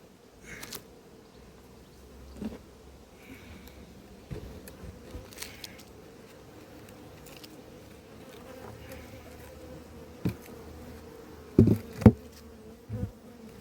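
Bees and wasps hum around an apiary hive where robbing is underway, a steady low drone running throughout, with a few sharp knocks and clicks near the end.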